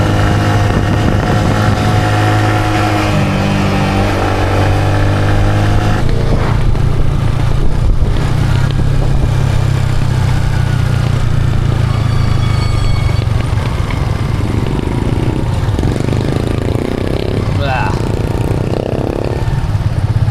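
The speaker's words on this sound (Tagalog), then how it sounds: "Ganda ba manakbo talaga ng motor na to?" Motorcycle engine running steadily while riding, with a loud close drone that shifts in pitch as the bike accelerates and changes gear, mixed with wind buffeting the microphone.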